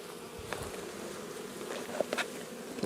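Honey bees buzz in an opened hive with a queen excluder, brood box and honey super during an inspection, making a continuous soft drone with a few louder passing buzzes near the end and no speech.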